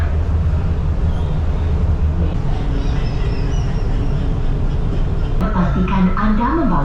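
An MRT train on the Putrajaya Line makes a loud, steady rumble heard from inside, with a brief voice near the end.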